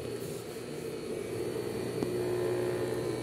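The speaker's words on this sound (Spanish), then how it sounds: "Este es el motor." A Siruba-type serger sewing machine motor, rated at 3450 RPM, runs steadily nearby with a continuous even hum and whine. The table is heavy solid iron.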